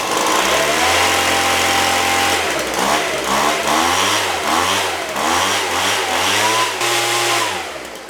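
A Poulan Pro 25cc 2-cycle leaf blower engine runs loud and close, holding a steady high drone, then surging and wavering unevenly before easing off at the end.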